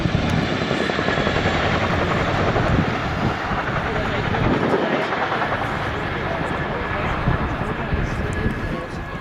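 An RAF Chinook helicopter flies a role demo at Cosford Airshow 2025, its heavy twin-rotor roar loud and continuous throughout, with wind buffeting and a faint announcer voice beneath.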